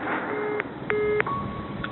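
A phone call ends with a few short electronic beeps, clipped tones spaced across a couple of seconds over a soft background hiss, with no one talking.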